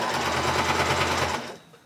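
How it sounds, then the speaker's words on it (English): A sewing machine runs a straight stitch through the paper pages of a junk journal, a steady close mechanical whir with rapid needle rhythm that stops abruptly near the end. "I do have the sewing machine, so I think I'll do that."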